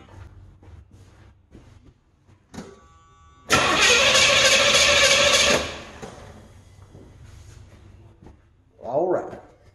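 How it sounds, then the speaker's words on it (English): Car engine cranking over on a freshly charged 12-volt battery and catching, a loud burst of starter-and-engine noise lasting about two seconds, set between quieter moments with a person talking before and after. "Let's see if it cranks this thing over."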